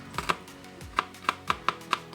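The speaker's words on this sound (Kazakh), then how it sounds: "2 тісше чеснокты ұсақтап тураймыз." A knife finely chops two garlic cloves on a board, with about nine crisp, close taps in an uneven but steady rhythm and no talk.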